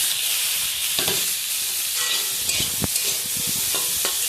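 Chopped vegetables stir-fried in a hot pan, a steady bright sizzle with repeated scraping and tossing strokes of a spatula breaking through at irregular intervals, close and continuous throughout.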